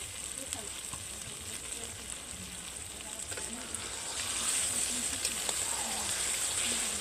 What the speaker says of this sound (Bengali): হালকা করে এক মিনিট মতো নেড়ে নেব